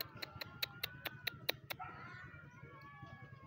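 A rapid series of short, sharp clucks from a chicken, about eight in a row, followed by a softer, sustained bird call with background noise.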